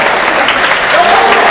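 Spectators at a football match applaud in a dense, steady burst of clapping that fills the stadium, loud and continuous throughout.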